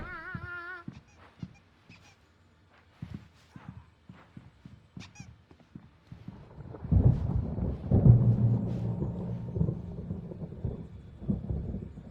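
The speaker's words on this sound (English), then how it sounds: "There's a storm coming. Oh, what a storm." Thunderstorm in the video game Alan Wake Remastered: scattered quiet clicks and tonal sounds give way halfway through to a loud, sustained rolling rumble of thunder that swells and lingers to the end.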